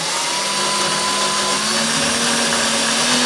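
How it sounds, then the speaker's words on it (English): A power drill with a 3/8-inch bit bores through the base of a smoking chamber, a loud steady whine that holds constant pitch and creeps slightly upward throughout. "I have a 3/8 drill bit right here. The only thing I'm going to do is take and I'm going to drill through the base of this."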